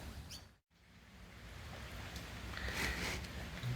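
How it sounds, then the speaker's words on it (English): Rain falling steadily, a soft broadband hiss close by, briefly cut out early on, then swelling slightly louder toward the end with faint patters. "Just going through a patch of rain at the moment"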